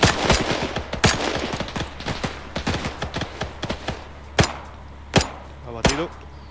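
Sharp gunshots crack out at an irregular pace in the video game Arma 3, loud and close, with a burst of rapid fire early on and a few isolated heavy shots later, no talking.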